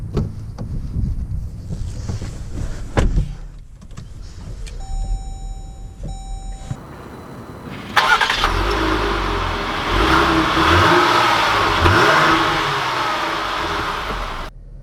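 A 2020 Jeep Grand Cherokee Limited X with a V6 pulls away, its engine and tire roar rising sharply and staying loud and steady after quieter idle sounds and a few clicks.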